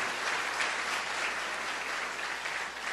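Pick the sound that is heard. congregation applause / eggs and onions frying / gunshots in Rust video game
congregation applause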